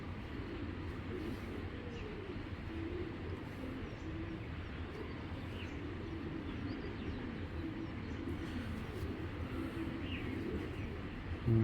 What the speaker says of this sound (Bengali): এক জোড়া মিলি কবুতর, খুবই সুন্দর